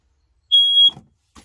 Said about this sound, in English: And I also have a smoke detector right here.